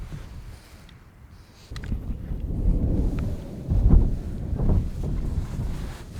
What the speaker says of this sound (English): it is thundering pretty crazy all around us